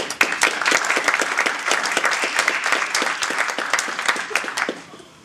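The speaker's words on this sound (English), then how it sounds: "Wanted to say a huge round of applause for all the sponsors and volunteers" Audience applause fills a tech conference hall, dense steady clapping from a room of people that carries on loud for several seconds before fading out at the end.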